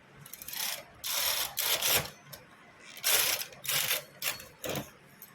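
A knitting machine running stitches along a sweater button strip, several loud mechanical bursts of clattering carriage passes with short pauses between them, close by.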